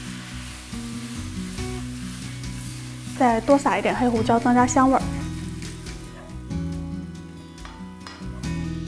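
Steak stir-fried in a pan with bean sprouts and vegetables sizzles steadily, swelling into louder crackling bursts midway as food is tossed, while someone speaks over it.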